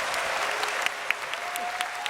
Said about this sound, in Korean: 우리 수고한 우리 청년들에게 다시 한번 큰 박수로 격려해 주시기 바랍니다.